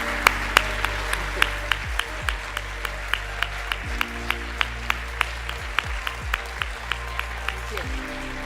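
An audience applauds after a presentation at a congress session, a steady patter of clapping from a crowd, with a voice talking over it.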